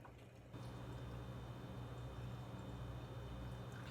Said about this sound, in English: Pour salt water brine over to cover by 1 inch.